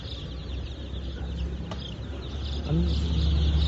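Faint, high chirps from young chicks repeat against a busy background hum, with some talking nearby.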